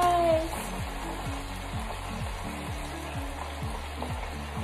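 Food is dropped into hot grease and fries with a steady, close crackling sizzle that holds throughout.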